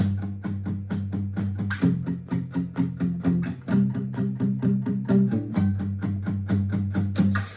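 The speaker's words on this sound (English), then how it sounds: "we're going to talk about palm muting," Tight, choppy palm-muted electric guitar chords chug in a steady rhythm, with a few chord changes along the way, played alone and close.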